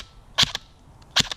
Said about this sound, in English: I'm gonna shoot for it.